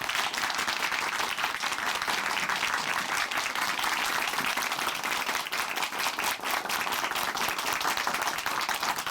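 Steady, enthusiastic applause from a church congregation fills the room, dense clapping continuing without pause throughout.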